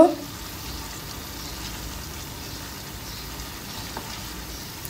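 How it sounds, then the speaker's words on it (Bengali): Fried hilsa pieces stirred into mustard masala in a pan give a steady, low sizzle with soft frying crackle that runs evenly throughout, close by and with no talking. "আমি উল্টিয়ে পাল্টিয়ে মশলাগুলোর সঙ্গে মাছগুলো একটু মিশিয়ে নিব"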